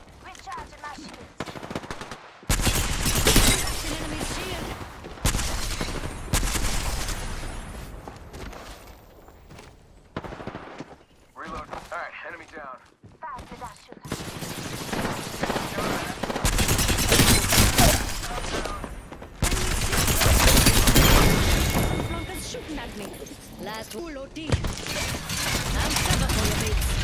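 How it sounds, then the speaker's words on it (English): Gunfire from a match of the battle royale game Apex Legends, loud bursts of automatic fire and rapid shots coming in repeated waves across the clip, with brief quieter gaps and speech over parts. "getting shot at"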